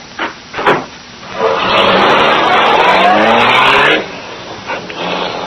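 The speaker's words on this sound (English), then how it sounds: "Once more, the powerful black car roared through the city streets" Powerful black car roaring through city streets in an old radio drama. The engine surges into a loud, sustained whoosh and roar for a few seconds, then drops away.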